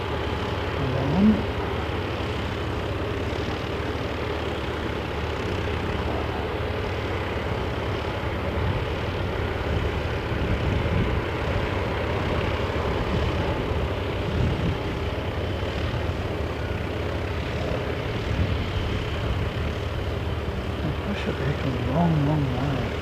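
A Singapore Airlines airliner taxis slowly at an airport, its steady low engine roar and broadband rumble continuous and moderately loud, with faint talk in the background.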